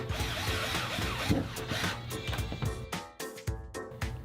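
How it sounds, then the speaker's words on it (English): Bolts of a Risk Racing Lock N Load PRO motorcycle transport system being tightened down with a tool, giving busy mechanical ratcheting and whirring with clanks and sharp knocks near the end, close and fairly loud. "Drop the bolts in and tighten them down."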